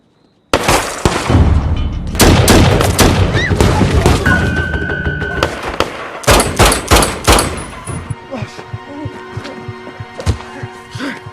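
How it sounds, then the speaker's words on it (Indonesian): A rapid burst of loud gunshots and impacts in a film shootout, with sharp cracks and booming hits, some ringing tones, then scattered shots trailing off. "mereka pun dikejutkan saat Hammond dan rekannya terlibat baku tembak"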